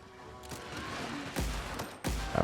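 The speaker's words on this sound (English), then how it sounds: "It's a mega cannon." Mega cannon fire in The Outer Worlds gives several sharp, punchy booms spaced irregularly over a busy combat background, moderately loud and close.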